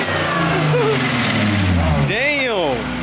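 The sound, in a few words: car engine revving at night car meet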